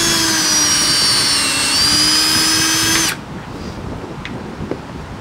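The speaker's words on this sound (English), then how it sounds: "And then you make an injection hole" A power drill whines loudly and steadily as it bores an injection hole into an ash tree outdoors, then cuts off abruptly, leaving quiet ambient noise with a couple of faint clicks.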